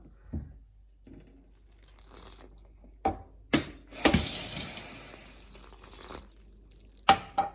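Water pours into rice flour for aadi kool, a Sri Lankan porridge, in short splashing bursts with a longer pour in the middle, close and fairly quiet.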